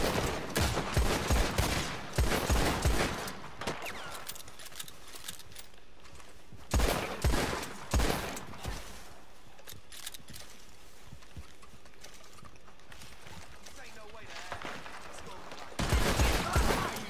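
Bursts of gunfire in a Red Dead Online shootout in the Old West, with volleys of shots spread across the scene, some horse hooves under them, and quieter gaps between the firefights.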